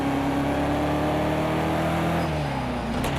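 A BMW M6 GT3 race car in Project Cars 2 at Brands Hatch drones loudly and steadily under power, its engine pitch dropping midway as it comes off the throttle or shifts, with no one talking.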